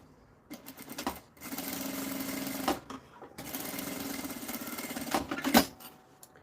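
An electric sewing machine stitches a zipper onto a fabric pencil case in two sustained, rapid whirring runs separated by a short pause, close and steady with light clicks at the starts and stops.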